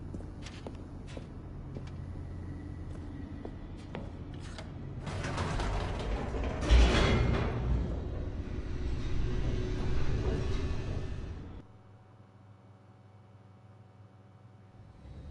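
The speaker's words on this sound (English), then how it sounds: "The elevator raced downward, plummeting towards an unknown fate." Mechanical creaking and grinding of an elevator descending in The Stanley Parable, swelling into a louder rumbling rush midway before cutting to a low, steady hum; no talking.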